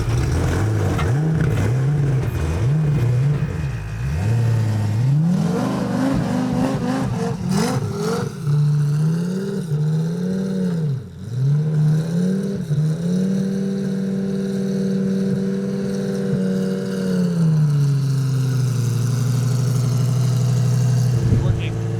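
A race car engine close by, revving up and down repeatedly with rising and falling pitch and then settling into a steady, loud idle for a stretch near the end.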